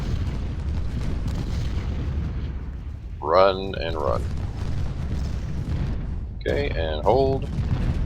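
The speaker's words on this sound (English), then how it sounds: "What is that, cannon?" Cannon artillery fire in the Civil War battle game Ultimate General: Civil War booms in two separate bursts, each a short cluster of reports rolling over a constant low battlefield rumble, while a voice talks throughout.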